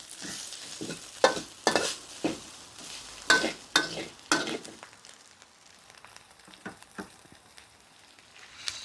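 Whole spices dry-roasting in a pan for Thai braised pork leg stew, stirred in bursts of rattling, scraping strokes with a faint sizzle, loud and close at first, then quieter, sparser stirs toward the end.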